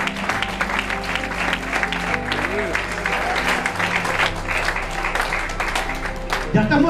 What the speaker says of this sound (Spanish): Un aplauso acerca de Dios